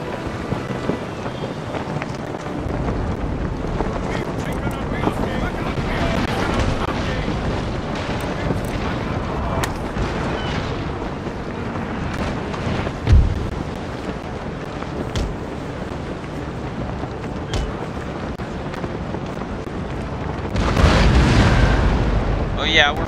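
Naval cannon broadsides from a ship battle in Empire: Total War, a continuous rumbling barrage of booms under wind and sea noise, with one louder blast near the middle and a heavier burst at the end.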